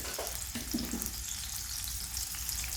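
Meat frying in hot cooking oil in a pan, with a loud, dense, continuous sizzle and a few soft stirring sounds near the start.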